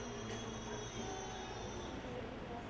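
A toy train runs steadily along its track through a countryside layout with toy animals, giving a continuous low rumble and whirr that holds at an even level for the whole stretch, with no talking over it.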